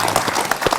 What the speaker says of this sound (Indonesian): kita beri tepuk tangan Pak Sekda